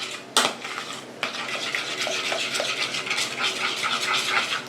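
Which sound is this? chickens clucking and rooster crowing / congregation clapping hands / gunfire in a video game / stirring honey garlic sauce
stirring honey garlic sauce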